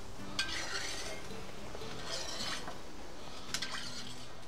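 Oil spread around the walls of a hot saj pan with a utensil: faint scraping and stirring, light metallic clinks and a soft sizzle, quiet and steady with no talking.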